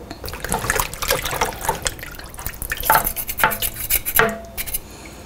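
Pig ears rinsed one at a time under water, with a steady wet splashing and dripping close by, broken by irregular knocks of the pieces against a pot or basin, and no talk.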